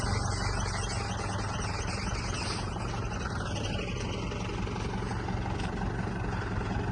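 A tractor engine idles near a river during field work, a loud, steady low rumble that drones on without pause, with no voices over it.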